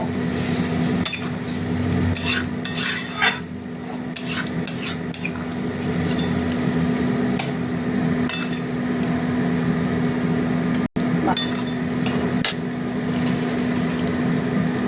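A spatula scrapes a stuck karai of masala being cooked down, with repeated bursts of metal scraping and clinking over a continuous low sizzle, close and fairly loud.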